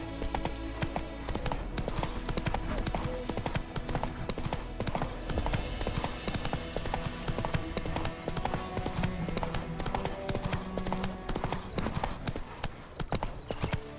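Roach, a horse in Witcher 3, trotting with steady rhythmic hoof clip-clops throughout, close and continuous over a musical background.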